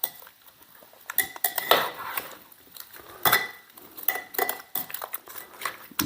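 Salt and pepper seasoned beef being tossed in a bowl or pan: a busy run of clinking, knocking utensil and dish sounds, close and fairly loud, in irregular bursts.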